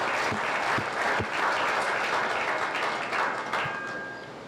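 Audience applause at a 4-H county fair sheep show, a broad sustained clapping from a crowd that stays steady for several seconds and then slowly tapers off.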